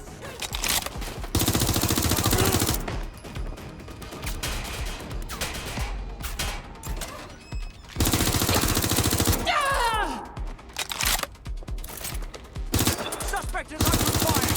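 Bursts of gunfire erupt in the Watch Dogs Legion video game, loud automatic volleys separated by brief lulls, with game sound effects and a faint voice mixed in.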